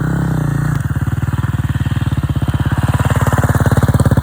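A 250 dirt bike engine idles with a rough mid-pitched chug, then the revs drop into a steady pulsing putter during wheelie practice, loud and close throughout.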